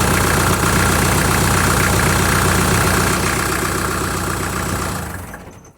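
A 2003-or-later Kubota L48 tractor's diesel engine runs at a steady idle up close, then winds down and stops as it is shut off near the end.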